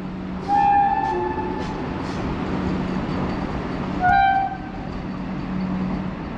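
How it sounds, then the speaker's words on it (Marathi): A Vande Bharat express train rumbles steadily past through a tunnel on the Kasara Ghat, sounding two short horn blasts a few seconds apart over the continuous roll of the carriages. "Yes, Vande Bharat train. Okay, मधल्या टनेलमधून पास होणार आहे."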